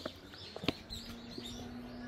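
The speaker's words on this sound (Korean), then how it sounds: "새소리 좋고" Birds singing around Cheonjeyeon waterfall in Jungmun, with a few brief chirps and calls near the start over a steady outdoor background hum.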